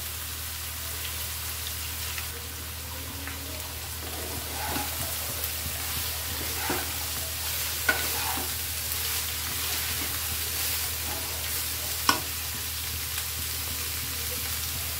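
Chopped banana stem sizzling and frying steadily in a hot pan for a Bengali prawn dish, a continuous close hiss with occasional soft stirring clinks and pops, no voices.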